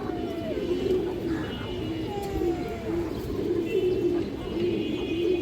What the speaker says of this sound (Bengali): একটা আনকমন মুসলদম কবুতর আছে মাশাআল্লাহ